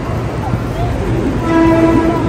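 A passenger train's horn sounds a sustained, steady tone over rumbling rail noise and nearby crowd chatter, swelling in the second half as the train begins to move.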